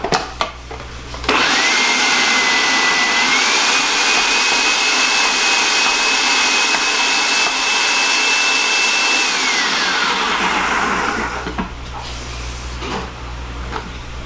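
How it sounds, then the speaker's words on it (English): A food processor shredding eggplant, a loud steady motor whine with a rising tone that roars for about nine seconds and then spins down, with no voices. "Doing it with a food processor now is a breeze compared to the way she did it."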